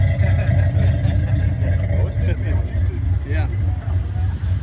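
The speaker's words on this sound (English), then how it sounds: "this may be the best sounding 3-valve I ever heard" A Ford 3-valve V8 idles and rumbles at a car cruise-in, a heavy, steady low exhaust drone running under nearby voices and crowd chatter, with a brief word spoken over it.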